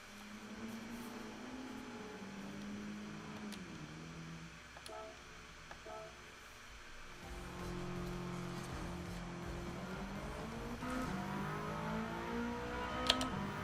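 Subaru Impreza boxer engine in Gran Turismo 7, droning and rising in pitch through gear changes, dipping briefly around mid-clip before revving up again, steady and fairly quiet with occasional faint clicks.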